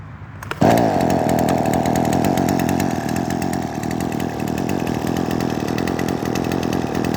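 A Husqvarna 128R brush cutter's small two-stroke engine fires up after a short pull and then runs steadily at a loud, buzzing, constant pitch close by.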